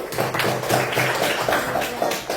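Classroom applause for a classmate: a short burst of brisk, rhythmic hand clapping from a group of students, fairly close and steady, with no talk over it.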